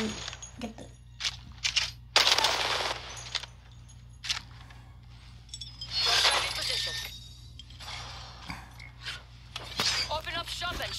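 Video game R-301 rifle gunfire comes in several sharp bursts of rapid shots, with the longest volleys near the middle and end, layered with metallic clinks and impact sounds over a steady low background hum.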